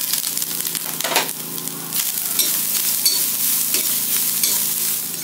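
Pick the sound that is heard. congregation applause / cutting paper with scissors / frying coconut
frying coconut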